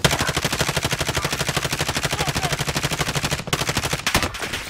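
Rapid automatic gunfire from Call of Duty Warzone, where the player is running an M4A1 assault rifle loadout, rattles off in a long, steady, loud, close burst with only brief pauses near the end.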